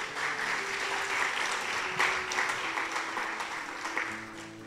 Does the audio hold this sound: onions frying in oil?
no